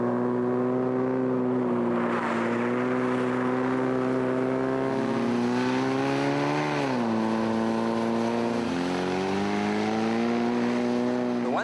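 An Axe quad bike, a South African road-legal quad running on kart rims, drives along a road, its engine a steady loud drone that rises and dips in pitch as it accelerates and eases off, with no talk.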